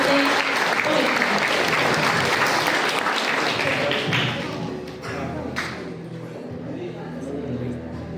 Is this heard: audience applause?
yes